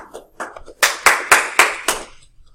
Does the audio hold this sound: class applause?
yes